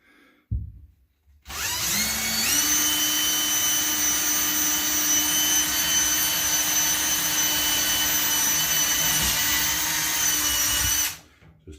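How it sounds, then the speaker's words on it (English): A power drill bores holes into a cracked soft shower pan, spinning up after a brief start and running steady and loud for about nine seconds before stopping. "Let's get drilling and see how this plays out."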